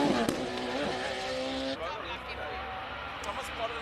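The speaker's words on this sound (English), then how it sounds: "such high performance rare single seaters, and feeling the noise of the engine through your stomach" A high-performance single-seater race car at the Simola hill climb, its engine loud and close with a sharp rising then shifting note, while someone talks over it.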